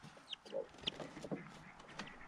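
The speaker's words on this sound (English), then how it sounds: "Here's the broody hen" A broody hen clucks softly in short bursts, close by, with a few higher chirps scattered through the brief stretch.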